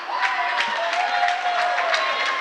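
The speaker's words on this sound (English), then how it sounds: "Gets a big cheer from the Tigers fans." Tigers fans in a gym cheer at a high school basketball tournament game, a steady crowd roar with some scattered clapping, sustained and fairly loud across the moment.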